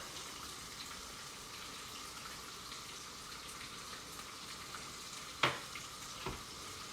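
Ham browns in a frying pan with a soft, even sizzle that holds throughout, then a single sharp clink and a fainter knock near the end.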